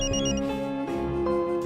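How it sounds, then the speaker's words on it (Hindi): A phone rings with a bright, repeating electronic tone, loud and close, its trilling pulses continuing unbroken with no voices over it. "फोन बज रहा है, उठाती क्यों नहीं?"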